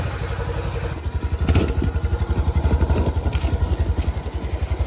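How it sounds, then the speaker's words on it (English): A big four-wheeler ATV engine runs close by with a steady, rapid thumping pulse and some clatter, with brief encouraging voices mixed in. "That's a big four-wheeler."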